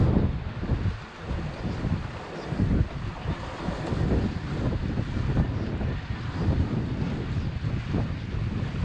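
A Dufour 375 GL sailboat sails on a beam reach at about 7 knots in a 16-knot wind. A loud, steady rush of wind and water stays close and continuous throughout, with no talking.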